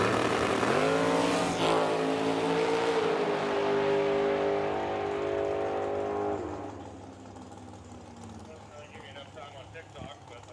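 A drag race car makes a solo run down the right-hand side of the track at the T&T Motorsports Oil City Classic in Edmonton, its loud engine roar climbing steadily in pitch, then cutting away as it fades into distant crowd noise, with an announcer talking over it.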